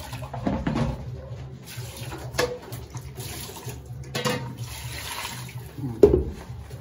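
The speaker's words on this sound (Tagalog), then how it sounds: "5 beses po dapat hugasan yung bangos or 6" Bangus, or milkfish, being rinsed under a running tap in a sink, with a steady flow of water and a few louder splashes and knocks, and faint talk in the background.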